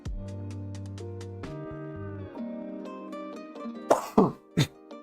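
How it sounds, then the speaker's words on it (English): Three sharp coughs in quick succession rise over a soft background melody near the end, close and fairly loud. "Jeez, the coughs are just not going away."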